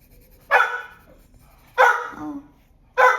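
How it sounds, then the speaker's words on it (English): A pet dog barking in a room, three sharp separate barks spaced about a second apart, clear and fairly close. "Oh, what are you barking at?"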